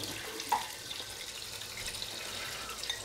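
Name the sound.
shaving brush rinsed under running tap water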